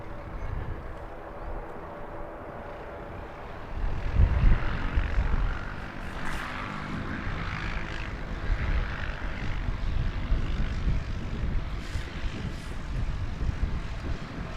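An airliner arriving at Christchurch Airport on flight NZ531 from Auckland, its engine roar rising into a steady, broad rumble that swells around the midpoint and holds fairly loud to the end, with no talk.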